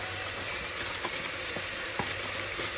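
Onions frying with ginger garlic paste and garam masala in a pan, a dense steady sizzle with a few soft taps of stirring spread through it.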